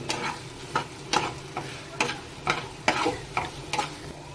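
Prawn chilli cooks in a pan with soy sauce, a background sizzle punctuated by a regular series of sharp spatula scrapes and knocks, roughly one every half second, with no speech.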